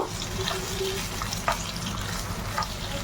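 Chopped onion frying in oil with bay leaf, cinnamon and cardamom, a steady close sizzle with faint stirring clicks, one brief louder scrape midway, no talk.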